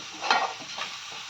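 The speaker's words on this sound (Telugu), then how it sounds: "ఇవన్నీ ఒకసారి ఫ్రై చేసుకుందాం." Salt, turmeric and chili powder fry briefly in hot oil for a fish curry, a soft steady sizzle with a couple of stirring scrapes, close and alone.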